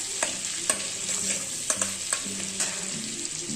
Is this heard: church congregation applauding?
no